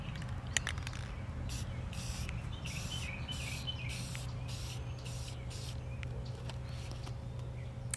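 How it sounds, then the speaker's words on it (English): Soft, steady hiss of spray paint misting from a distance onto a tumbler, with faint intermittent bursts over a low constant hum. "I am holding my spray paint pretty far away"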